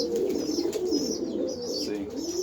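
Newly hatched pigeons give a steady, soft, low cooing murmur that runs without a break. Thin high peeps sound over it, close and fairly loud.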